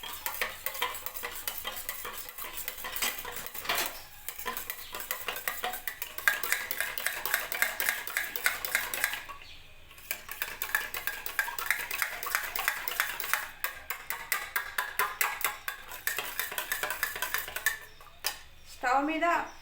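A spoon stirs dosa batter of jowar, green gram, black gram dal and egg in a bowl, giving repeated scraping, clinking and wet sloshing strokes in an irregular rhythm, close up, with a few brief pauses.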